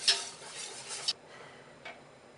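Milk being whisked into a cheese sauce in a pot for macaroni and cheese: about a second of brisk, scratchy whisking that stops abruptly, followed by a faint clink.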